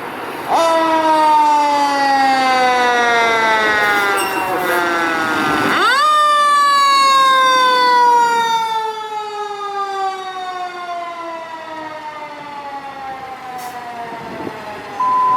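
Philadelphia Fire Department Engine 13 responding with a loud wailing siren that sweeps up and down, restarting sharply midway, close and dominant with no talk over it.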